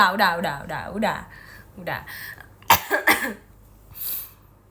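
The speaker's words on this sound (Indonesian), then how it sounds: "Duh, batuk deh, pengen dilepas dulu tenggorokannya" A woman on a livestream gives a few short coughs and clears her throat, with her own talking before and between the bursts.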